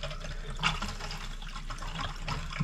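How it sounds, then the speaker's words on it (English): Water runs steadily down a camping trailer's drain with a soft, continuous gurgle, quiet and close, with no talking. "Make sure our drain's pulled so that way the water goes down."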